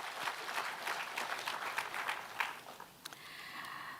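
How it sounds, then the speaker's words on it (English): Applause from a large audience, a steady wash of clapping that briefly dips and then continues, with a murmur of voices. "I think they all deserve a round of applause."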